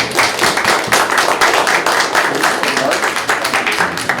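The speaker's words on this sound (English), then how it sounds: "Give them a clap." Colleagues at a real estate team meeting clap to congratulate coworkers on listings taken, a dense, steady round of applause lasting about four seconds, with voices mixed in.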